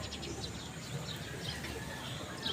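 Pigeons and other birds coo and chirp faintly on a quiet morning, with soft, intermittent calls over a low steady background.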